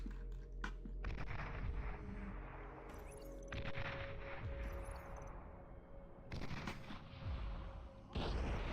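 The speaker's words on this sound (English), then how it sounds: "Oh, there's a lot of artillery flying here." Artillery and gunfire in the real-time strategy game Beyond All Reason: repeated loud booming blasts and crackling volleys in several bursts, with brief lulls between salvos and a faint steady tone underneath.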